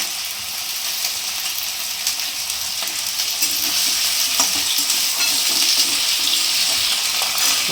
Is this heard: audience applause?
no